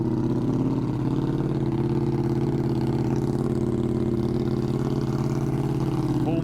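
A 200+ horsepower motorcycle fitted with a cheap aftermarket eBay exhaust idles after start-up in a residential neighborhood, a loud, deep, steady rumble held close by throughout.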